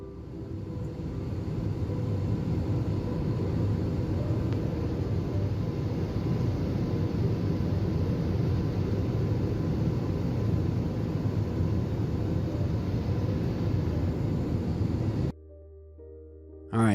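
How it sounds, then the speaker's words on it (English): Cabin noise inside a commercial airliner flying at night forms a steady, dense low roar that holds evenly for about fifteen seconds, then cuts out abruptly. "taken from a passenger on a commercial airline who was flying at night"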